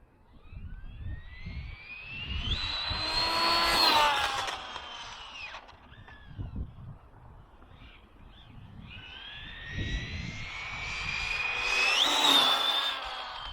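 An Arrma Limitless RC car motor runs at quarter throttle with two rising whines that climb and fall away, separated by a quieter stretch of rumbling wheels and background noise. No voices are present.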